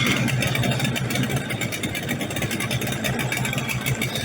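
A new Yamaha Enduro 30hp two-stroke outboard motor runs during a break-in test, a steady, fairly loud buzzing drone at an even speed with no revving and no talk.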